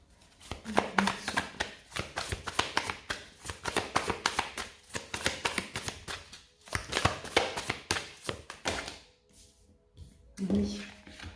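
Tarot cards being shuffled, handled and drawn, producing dense rapid riffling and slapping bursts in close succession with short pauses, close and fairly loud, with a little faint voice in places.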